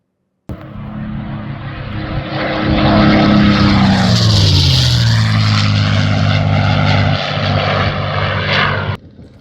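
A vintage propeller aircraft, the warbird Goldfinger, makes a low flyby at an aviation weekend, its engine drone swelling in loudly, with a clear falling pitch as it passes close overhead, then holding steady before cutting off.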